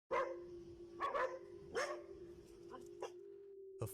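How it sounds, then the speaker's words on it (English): Several dogs bark at a passing motorcyclist, sharp repeated woofs and yips spaced irregularly, with a steady engine-like hum running underneath, heard at moderate distance. "The dogs are just barking at the motorcyclist."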